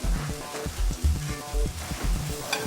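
Mushrooms sizzle and fry in a hot pan in a steak recipe, a loud steady crackle with rhythmic stirring or pan scrapes repeating about every half second.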